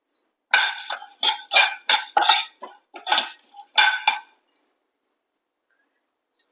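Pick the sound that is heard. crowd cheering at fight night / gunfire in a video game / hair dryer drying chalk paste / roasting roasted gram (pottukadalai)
roasting roasted gram (pottukadalai)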